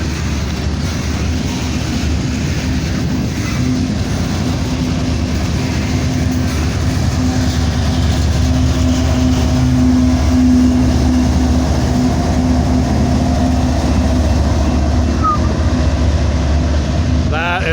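A long freight train with distributed power locomotives rolls past, a steady heavy rumble and engine drone with a sustained low tone swelling slightly toward the middle.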